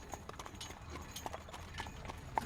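A horse's hooves clip-clop at a steady trot while it pulls a wagon-like carriage. The sharp, evenly spaced hoof knocks are faint and close, heard alone with no voices over them.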